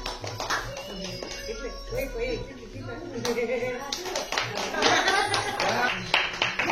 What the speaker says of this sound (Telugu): మళ్ళా క్లాప్స్